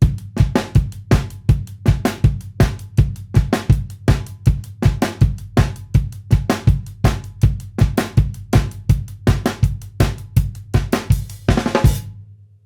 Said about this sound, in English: you can have that bass drum there on all 4, and it would sound something like this